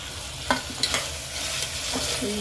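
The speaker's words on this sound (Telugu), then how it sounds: "తర్వాత బీన్స్ క్యారెట్ వేసుకోవాలండి" Beans and carrots fry in a pan while a utensil stirs them, producing several distinct close scrapes and taps over a continuous gentle sizzle.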